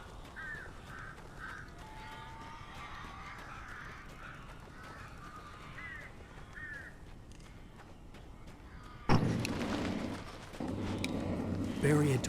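Crows caw repeatedly in Alan Wake Remastered, several harsh calls at moderate distance over a quiet eerie backdrop, followed by a sudden louder burst of noise near the end.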